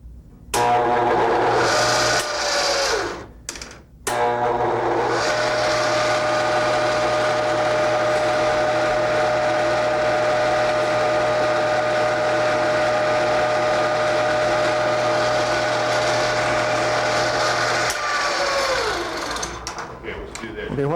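A 300-thousandths, 60-degree dovetail cutter mills a pistol slide with a steady, loud machining whine that runs for about fifteen seconds, briefly stopping near the start and winding down at the end.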